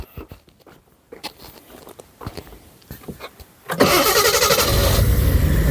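After about twenty years of sitting, a 1972 Triumph 2000 Mk2 engine cranks with faint clicks and rustles, then catches and roars into a loud, steady run.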